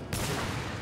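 Ranged weapon fire aimed at chains in the Warhammer: Vermintide video game, a sudden dense burst of shots that starts abruptly and holds as a continuous rattling roar for under a second.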